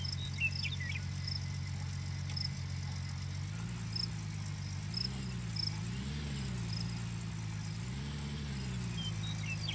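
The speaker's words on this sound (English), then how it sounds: "Why is the sound of crickets and birds?" Crickets and birds in the Gold Rush video game, with steady insect chirping and scattered short bird-like chirps over a low, droning engine hum that swells in places.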